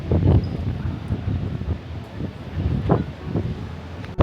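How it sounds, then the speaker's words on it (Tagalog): Strong wind buffets the microphone on Fansipan's mountain summit in Vietnam, a steady low roar with rushing gusts that rise and fall over several seconds, no talking. "Grabe, ang lakas ng hangin."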